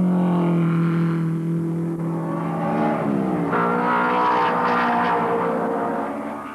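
1930s German Grand Prix racing cars roar past with engine drones shifting in pitch, layered howling tones swelling loud in the middle and fading slightly at the end.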